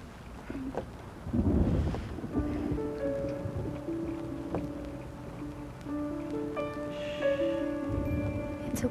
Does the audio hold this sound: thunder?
yes